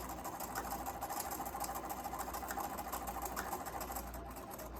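Sewing machine stitching a line across the bottom of a fabric mask, a steady, soft, fast rhythmic whir running continuously with no pauses and no talk.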